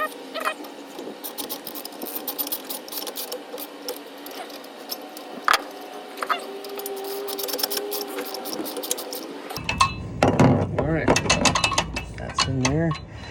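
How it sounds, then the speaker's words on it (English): An Allen wrench tightens the screws on a B&W Companion hitch in a 2022 GMC dually bed, giving small metallic clicks and ratcheting scrapes close by, with louder clattering handling near the end. "We got the Allen head, and then we'll tighten"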